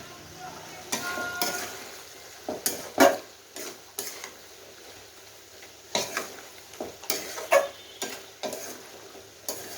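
Garlic cloves tossed into beef and potatoes frying in a pan for a Bangladeshi dried-beef dish, with close sizzling, scraping stirs and clanks of a utensil against the pan in irregular bursts.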